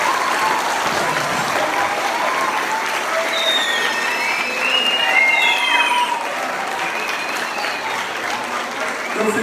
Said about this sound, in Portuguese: Uma salva de palmas bem grande.